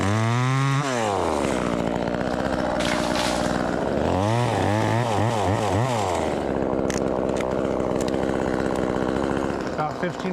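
A cheap Gthan top-handle chainsaw runs loud and close, its engine revving up and down in rising and falling surges before holding a steady high whine, with people talking over it.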